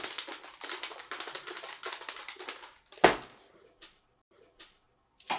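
Wooden matches shuffled and mixed together by hand, a rapid series of dry rattling clicks, close and fairly quiet, followed by a sharp knock and a few scattered taps.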